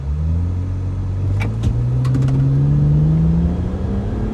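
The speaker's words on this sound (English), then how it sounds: "To start the road test, we're gonna do our 0 to 60 times first in the BMW." A BMW sports car accelerates hard from a standstill in a 0 to 60 road-test run, its loud engine rising steadily in pitch through the whole stretch with short gear-change breaks, no voices over it.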